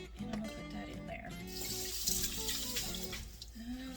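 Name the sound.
filtered water poured from a jar into a pot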